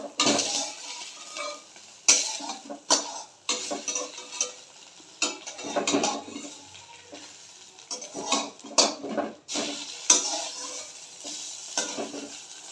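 A spatula scrapes and clatters against a frying pan as a double egg omelette is folded, with soft sizzling beneath repeated close, uneven scraping strokes and no talking.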